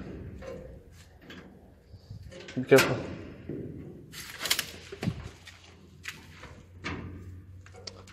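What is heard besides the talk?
rattling a locked door in abandoned structure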